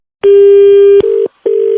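A telephone line after a call is hung up: a loud steady tone followed by two shorter beeps separated by a brief silence, with no talk.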